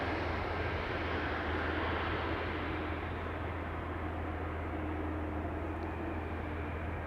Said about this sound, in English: This is an Embraer 170 arriving from Humberside, another Britty Hopper, flying on behalf of KLM, flight 972.